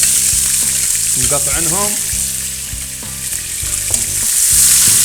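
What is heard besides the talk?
onions frying in a pan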